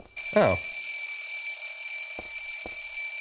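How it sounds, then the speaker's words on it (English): Alarm clock in Silent Hill 3, a continuous high electronic ringing tone held steady across the clip, with a short sweeping sound at the start and two faint knocks later. "that fucking alarm clock"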